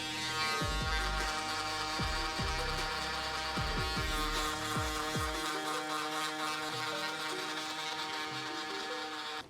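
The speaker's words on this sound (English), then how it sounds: "And then top it off by using my electric shaver." Electric shaver buzzing steadily and close during a men's haircut, with a few sharp clicks and bumps early on as it touches the head, then a continuous even hum.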